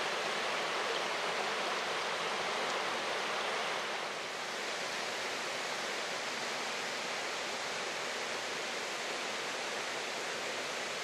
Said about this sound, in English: you can see where Ross Brook is just about to go over the precipice.